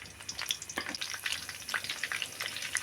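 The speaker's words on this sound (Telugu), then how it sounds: "పచ్చిమిరపకాయలు వేగిందండి కరేపాకు ఒక రెబ్బ ఇప్పుడు ఇందులో వేసుకుందాం" Green chillies and curry leaves fry in oil for a mutton trotter curry, giving a close, continuous sizzle broken by sharp crackling pops scattered throughout. No one speaks.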